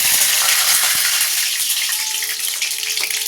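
Mustard seeds and curry leaves are tossed into hot oil with peanuts, setting off a loud, bright sizzle peppered with sharp pops and crackles that holds steady throughout, heard close up with no voices.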